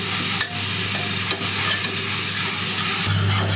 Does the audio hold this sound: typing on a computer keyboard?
no